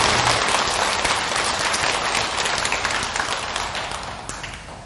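An audience claps during a Buddhist dharma talk at a temple prayer service, a loud burst of many hands that slowly thins and fades over several seconds.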